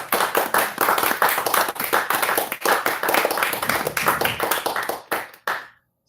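Audience snapping fingers for a performer named Morris at a youth open mic night, a dense crackle of many quick snaps close by that runs steadily for about five seconds before thinning out and stopping.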